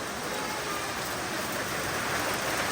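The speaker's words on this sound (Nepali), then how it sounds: "डेन्जर पानी पर्यो" Heavy rain pours steadily near a village waiting shelter, a continuous close hiss of water with no breaks and no talking.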